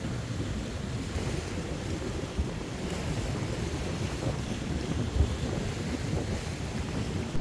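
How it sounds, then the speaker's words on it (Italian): Wind blows steadily on a rocky seashore during light spinning fishing, a broad constant rush with buffeting against the microphone and surf beneath it, loud and unbroken with no talking. "il vento è troppo fastidioso per pescare in superficie"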